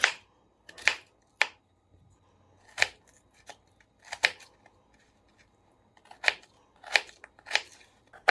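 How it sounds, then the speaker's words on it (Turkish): Knife cuts potatoes into cubes with scattered crisp chops on a board, close and intermittent with quiet gaps between strokes. "Patates küp küp keselim."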